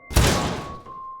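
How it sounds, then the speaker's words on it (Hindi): A bathroom door slams shut on its own in a horror story: one heavy, close thud that hits hard and then rings out slowly, with no voices. "और फिर बाथरूम का दरवाज़ा अपने आप बंद हो गया।"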